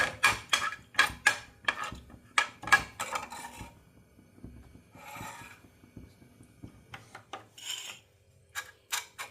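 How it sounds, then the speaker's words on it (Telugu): Cashews frying in hot ghee in a pan for a ragi burfi, heard as a run of sharp clinks and scraping against the metal at first. Softer sizzling and rubbing follow, with a few light taps near the end and no talk. "కాజు కొంచెం ఫ్రై అవ్వాలి"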